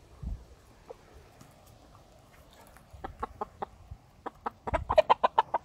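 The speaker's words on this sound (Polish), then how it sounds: "Moja złota kura." A hen clucks in a farmyard, sparse calls at first and then a quick run of sharp, loud clucks near the end, close by with no talking.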